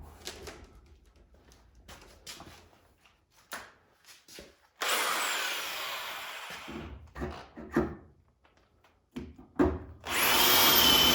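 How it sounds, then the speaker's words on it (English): Power drill boring a hole for a rear spoiler on a project Ford Mustang, heard in short bursts at first, then a longer steady whine from about five seconds and a final loud run near the end, close and clear. "run a little bit bigger drill bit on that side"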